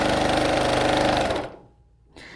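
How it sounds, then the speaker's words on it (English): Sewing machine stitching fabric in a fast, loud mechanical burst for about a second and a half, then stopping, with a brief quieter clatter near the end. "They sew in short, fast clips like this."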